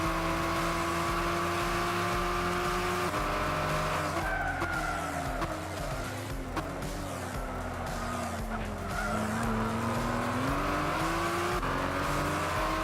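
A race car on the Nürburgring GP in Gran Turismo 6 drones with a steady engine whine that rises and falls through gear changes, while tires squeal and skid through tight corners.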